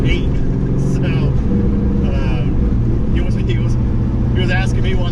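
Supercharged 4.8 truck V8 with a Powerdyne blower running on E85 and slipping its belt, a loud steady rumbling idle with a faint whine on top, heard up close under someone talking.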